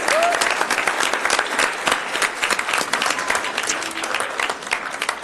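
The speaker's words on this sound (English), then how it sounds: "Let's give them a round of applause" Steady, dense applause fills the whole stretch at a civic platform ceremony as Aquinas High School students are welcomed up, holding at an even level throughout with a faint tonal whistle near the start.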